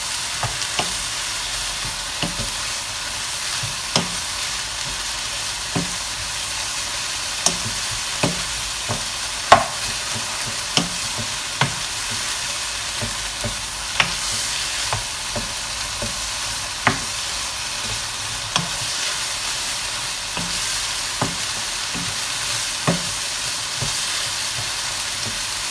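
Mince browns in a pan for shepherd's pie with a steady, even sizzle throughout. A utensil scrapes and knocks against the pan at regular intervals, close and clear, with no talking.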